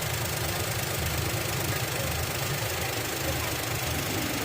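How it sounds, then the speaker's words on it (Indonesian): A Daihatsu Xenia car engine idles just after starting, a steady, even rumble with a dense broadband hum that holds without change for a few seconds. "mesin saat dinyalakan ya, bagaimana masih halus atau tidak"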